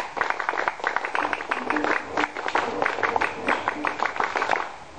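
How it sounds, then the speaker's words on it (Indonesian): A group of scouts at a ninth-grade Islamic junior high school performs the patterned Pramuka clap twice, a rapid, rhythmic run of crisp, close hand claps with faint voices mixed in. "Dua kali tepuk pramuka."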